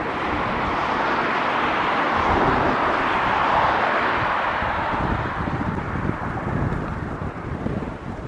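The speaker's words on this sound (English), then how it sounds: "It is getting breezy out here." Wind blows steadily outdoors at a construction site for the Las Vegas Raiders headquarters, a continuous loud broadband rush that buffets the microphone with low rumble and shifting gusts and no pauses.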